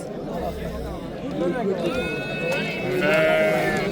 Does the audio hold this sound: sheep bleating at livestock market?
yes